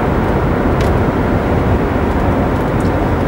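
A 1998 Mercedes-Benz CLK 430 V8 accelerating hard on kickdown, a loud, steady broadband engine roar heard from inside with strong road and wind noise.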